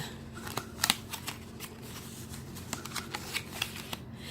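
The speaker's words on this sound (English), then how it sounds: "And then you just keep folding and folding and folding." Paper being folded over and over to make a greeting card, with soft crisp creases and rustles coming in small irregular bursts, fairly close and quiet, with no talking.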